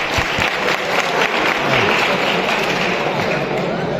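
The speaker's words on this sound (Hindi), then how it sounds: "ओ ताली बजाओ ताली" A large audience bursts into steady, dense applause, the clapping filling the space continuously from start to finish with no pauses.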